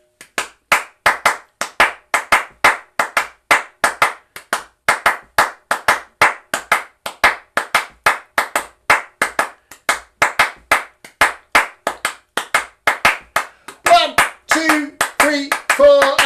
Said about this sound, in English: Now that's me clapping it